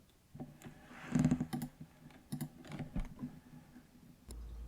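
Soft computer mouse and keyboard clicks tap out irregularly while working in a game-engine blueprint editor, several quick close clicks in a quiet room.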